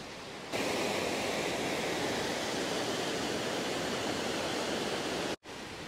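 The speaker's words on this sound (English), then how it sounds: "hear me over the top of the river flowing down there" A constant broad rushing of flowing water, loud and steady like a river running nearby, with a brief cutout near the end.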